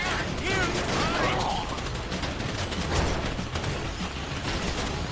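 Gunfire in the video game GTA 5 during the Paleto Store mission, a dense continuous clatter of shots layered with bird-like chirps and mechanical noise, steady and loud throughout.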